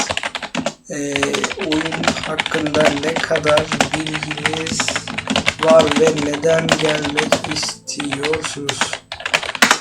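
Rapid, loud computer keyboard typing clatters almost continuously like a machine gun while a person talks over it, the keystrokes close and sharp.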